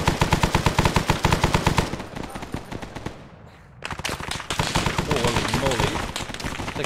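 Enemy gunfire in Arma 3 Vietnam crackles as rapid, loud automatic bursts, breaking off briefly into a quieter lull before the firing resumes just as densely, with voices talking over it.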